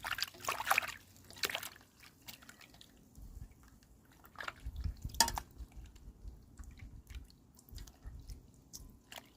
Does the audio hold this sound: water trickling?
yes